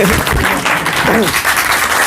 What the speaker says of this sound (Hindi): तो तालियां बजाओ यार फिर तो इनके लिए